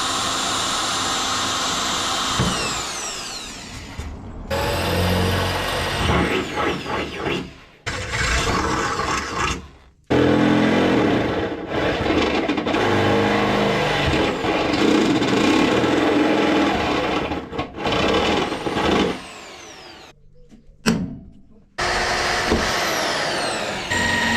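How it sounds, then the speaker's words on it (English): Loud power drill whirring in several bursts, separated by brief pauses, with higher-pitched grinding as the bit bites into the metal engine bay panel of a Mk2 Ford Escort. "all that's left to do is drill these holes"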